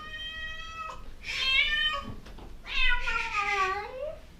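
A cat left behind in a rental unit lets out two drawn-out, loud meows close by, the second longer and falling in pitch, with a short pause between them.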